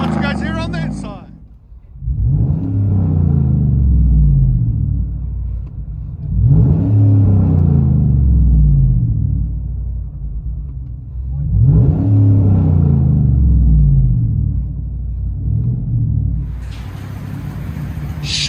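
A 2014 Chevy Silverado with a 5.3L V8 and a straight-pipe dual exhaust revs three times in a steady pattern, each deep rumbling surge rising and falling back to idle, loud and close.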